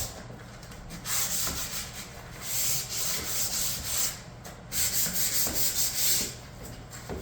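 A wooden staircase is lightly hand-sanded, producing soft rhythmic rasping strokes back and forth, close and fairly quiet, in bursts separated by short pauses with no talking.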